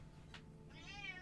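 A house cat gives a single faint meow at the end of a brief moment, preceded by a soft click, over a low steady background hum.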